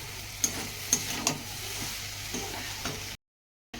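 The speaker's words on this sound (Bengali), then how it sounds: "মাছের ঝোলটা ফুটে এসছে" Bengali fish curry coming to a boil in a pot, with a soft continuous bubbling simmer broken by a few sharp clinks and taps, then a brief cut to silence near the end.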